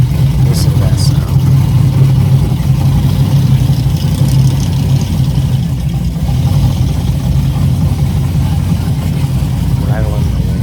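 A heavy old drag car idling at the strip beside an El Camino, a deep loud burbling rumble that holds steady throughout, close by, with faint voices in the background.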